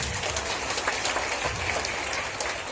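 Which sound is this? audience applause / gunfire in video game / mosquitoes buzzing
audience applause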